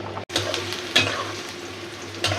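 Onion and spice paste frying in oil in a wok, a steady close sizzle with soft stirring scrapes and a brief cut near the start, no talk.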